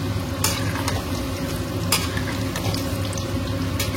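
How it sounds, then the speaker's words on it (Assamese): Chicken pieces for chicken pakoda sizzle steadily in a pan while a utensil stirs them, with a few short scraping bursts standing out against the continuous frying hiss; no one speaks. "তো চিকেনখিনি দি লৈ আমি এনেকে ধুনীয়াকে ইয়াতে অকণমান এনেকে লৰাই বগাই দিলেই হ'ল"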